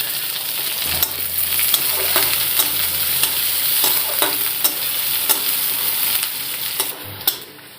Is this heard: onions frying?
yes